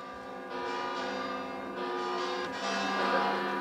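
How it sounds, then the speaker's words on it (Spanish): Church bells in Spain ring a Gloria peal continuously with overlapping tones, a dense, steady clanging that swells slightly as it goes on. "Las campanas tocando a Gloria anunciaban este mediodía"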